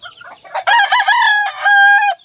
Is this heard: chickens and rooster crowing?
yes